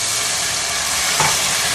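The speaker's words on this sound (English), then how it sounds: "listen to that sizzle." Wine poured into a pan of mushroom risotto hisses in a steady, loud sizzle throughout, with a brief stir-like burst near the end.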